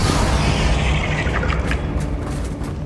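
In Hogwarts Legacy, a Bombarda spell explodes with a loud, deep boom and rumbling roar, followed by scattered crackling debris bursts as the blast slowly tails off.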